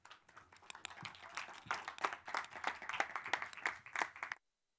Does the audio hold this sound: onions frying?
no